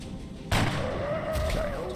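A soldier fires a single headshot in the XCOM strategy video game, one sharp loud gunshot with a booming body, trailed by a ringing tone and a second softer impact amid game ambience.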